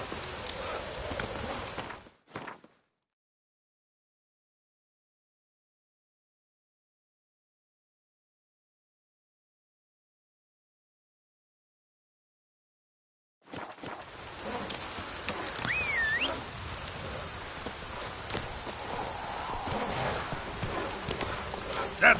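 Roach, the horse in The Witcher 3, clip-clops along with steady rhythmic hooves at a moderate distance. A short burst gives way to long silence before the trotting resumes, mixed with light rain-like ambience.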